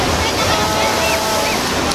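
A newly opened wave pool at Bugis Water Park, part of Bukit Sotopak Adventure: the loud, steady wash and churn of surging water fills the scene, with voices faintly mixed in under it.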